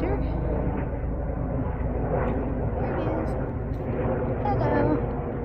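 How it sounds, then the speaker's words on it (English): A helicopter flying low overhead while inspecting high-tension power lines, a steady broad engine and rotor drone that holds through the whole stretch at moderate level. "Sometimes they helicopters come down really pretty low and they check the high tension lines"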